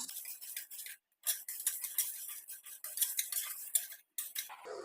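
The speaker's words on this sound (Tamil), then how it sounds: "இந்த மிளகையும் கூட ஆட் பண்ணிக்கலாம் இது ரெண்டுமே நல்லா வறுபடட்டும்" Chana dal and black pepper dry-roast in a pan, giving a busy, light rattling and scraping of stirred grains that pauses twice briefly, close and fairly quiet, with no one speaking.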